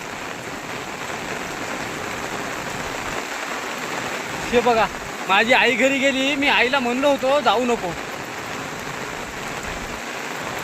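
Floodwater rushes hard through a village river, a loud, continuous broadband roar like heavy rain, while someone talks over it in the middle.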